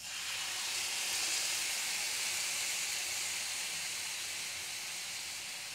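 Milk poured into a hot pan of beetroot halwa gives a steady, loud steaming hiss and sizzle that runs unbroken throughout, with no talking.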